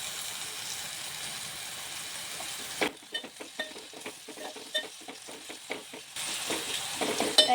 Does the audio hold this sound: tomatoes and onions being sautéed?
yes